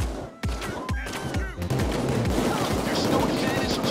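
Rapid gunfire during a heist shootout in Payday 2, heavy repeated shots and bursts hammering close and loud, merging into a continuous roar of automatic fire.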